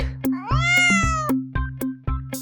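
A cat meows in one long rising-and-falling call followed by shorter mews, close and clear, with no voices over it.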